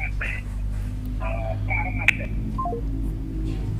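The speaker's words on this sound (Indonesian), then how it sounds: "kalau ada telepon silakan diterima dulu" Telephone tones cut in on a live Indonesian health talk show, a short run of beeps and a small falling sequence of tones over a steady low studio hum, with people talking.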